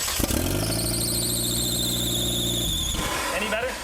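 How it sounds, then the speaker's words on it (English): A Mitsubishi Eclipse GSX's 4G63 engine, revived after sitting for years, cranks with a loud squealing whine and catches into a rough run for a few seconds before cutting out, with voices nearby. "All right, watch the alternator. We're gonna start it."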